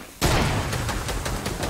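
Rapid bursts of gunfire in a video game fill the whole stretch after a brief quiet start, loud, close and continuous with rhythmic sharp cracks.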